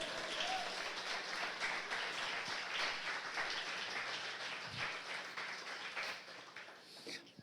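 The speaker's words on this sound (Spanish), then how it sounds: "¿Alguien puede darle un aplauso a él?" Applause swells through a church congregation during a sermon, a thick, continuous patter of many hands clapping that stays strong for several seconds before tapering off near the end.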